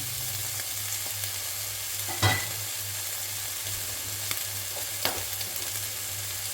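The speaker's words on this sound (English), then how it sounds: "I'm going to cook the bacon. So I don't need to put oil because bacon has got oil." Bacon fries in a pan without oil, a steady close crackling sizzle throughout with a few brief clinks and scrapes of stirring.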